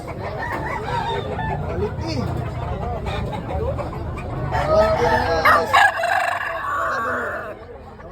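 Gamecocks crowing at a chicken expo in Tabunok, Talisay, Cebu, with several overlapping crows and clucks amid a busy crowd and people talking nearby.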